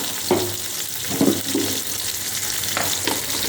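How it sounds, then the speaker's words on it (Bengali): Whole garam masala, cumin and cloves fry in hot oil with a steady close sizzle, broken by a few brief stirring or clinking sounds; no voices. "গরম মশলা গোটা দিলাম একটু জিরা ফোড়ন দিলাম লবঙ্গ দিলাম"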